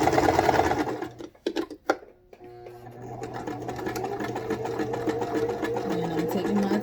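A sewing machine stitches through a cap, with a loud, rapid mechanical chatter, a brief pause with a few clicks, then a steady, even run of stitching up close.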